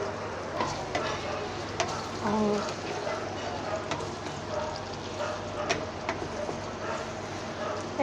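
Onions fry in oil in a pan, a close continuous sizzle broken by repeated scraping and stirring clatter, with people talking over it.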